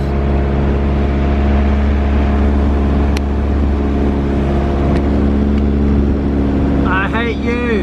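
A car engine idles steadily after starting, a constant low rumble held close throughout, with no break in the running sound.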